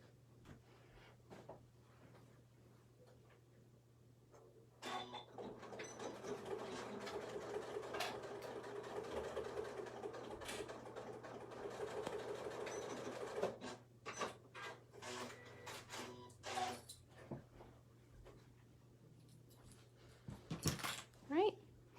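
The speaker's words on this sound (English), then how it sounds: "I just stitched right on the blue line" A sewing machine stitches fabric along a marked line for a small beginner's mini tote bag, running steadily for several seconds in a continuous whirring burst, with quieter moments and a few clicks before and after.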